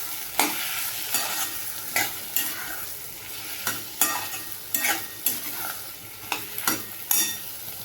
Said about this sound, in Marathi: ते पावटं वांगा बटाटा टाकते. हे पण छान असं परतून घ्यायचं.